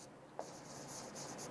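A pen writes out a math solution on paper during a quiet lesson on linear inequalities. A soft tap is followed by faint, rhythmic scratchy strokes close by, with no talking.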